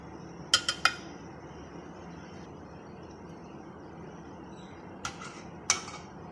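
Rasmalai pieces are lifted out and set into a serving dish, giving a few sharp clinks of utensil against dishware, a cluster at the start and two more near the end, over a quiet hum.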